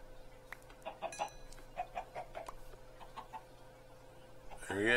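Blocky farm-game chickens cluck in short, scattered bursts from a Minecraft FTB Sky Adventures modpack world, with a constant background hum and a brighter rising noise near the end.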